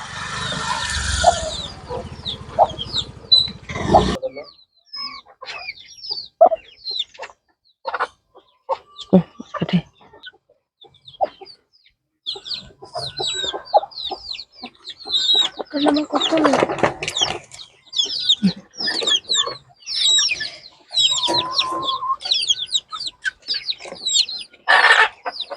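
Chickens with a leg disease, moved into a poultry coop, cluck and chirp in frequent close bursts through a long stretch, after a short opening of broadband noise.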